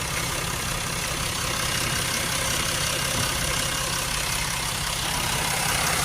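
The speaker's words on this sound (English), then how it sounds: "Get the engines running." A Range Rover 3.0 engine with an intake air leak idles steadily without change, a constant close rumble and hiss with no voices.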